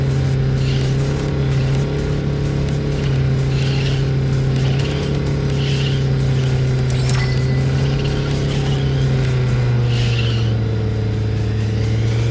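Racing car in the Neverness to Everness video game accelerating hard, a loud steady engine drone that rises and falls in pitch as it speeds up, alone without talk.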